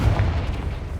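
A heavy, booming blast from the Confringo spell in Hogwarts Legacy, one loud low-end explosion rumbling through the whole short moment.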